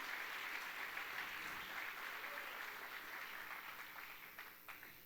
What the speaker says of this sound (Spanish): Le damos un fuerte aplauso al Rey de Gloria, al Señor Jesucristo.